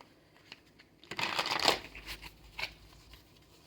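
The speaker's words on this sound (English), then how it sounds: "but I am shuffling the cards." Tarot cards shuffled by hand, quiet riffles and taps at first, then a dense burst of fluttering card noise close up, fading into a few softer shuffles.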